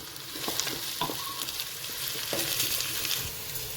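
Onions and thyme frying in a pan for meat pie filling, a steady sizzle broken by the scrape and clatter of a spoon stirring, close and alone without talk.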